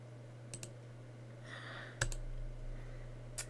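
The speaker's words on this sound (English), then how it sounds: "I'm going to click next." Mouse clicks during a Windows Server 2016 installation wizard: a few sharp, isolated clicks, a close pair near the start and single ones later, over a steady low electrical hum.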